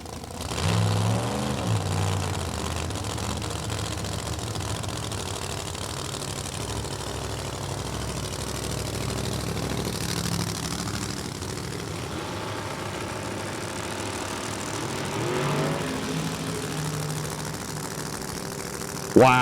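Top Sportsman drag racers, a Pontiac Grand Am and a Camaro, at National Trail Raceway, their engines rumbling loud and steady throughout, with a commentator's voice running over the noise.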